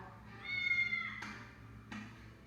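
A house cat meows once, a drawn-out close meow lasting about a second, followed by two short sharp clicks or taps in a quiet indoor room.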